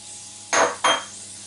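Parsley drops into a pan of plaice cooking with lemon zest and thyme, giving two short rustling scrapes against the pan in quick succession over a faint background hum.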